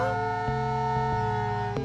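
A steady siren wails on a reality show set, with sustained tones punctuated by a few brief clunks, continuous and fairly close.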